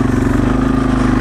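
A small, light Yamaha TW200 motorcycle engine thumps close and loud in a brief, steady low-pitched chug, with no voices over it.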